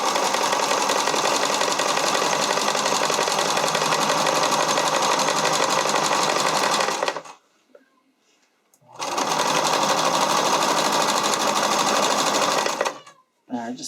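A sewing machine running a flat zig zag hem on stretchy spandex for a skating or dance costume, a loud steady close whir for about seven seconds, a pause, then another long continuous run before stopping.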